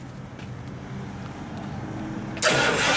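A 1967 Mercury Cyclone Caliente engine cranks and fires, a steady low churn followed by a loud sudden catch as it starts and roars into a close, strong idle.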